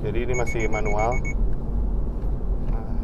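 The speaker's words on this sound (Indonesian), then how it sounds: "Itu eyesight-nya mendeteksi ada hambatan di depan, obstacle ya." Warning beeps from the EyeSight obstacle detection system in a 2023 Subaru BRZ: a rapid run of pulsed high beeps for about a second, over cabin noise, while someone talks, then only the low interior rumble remains.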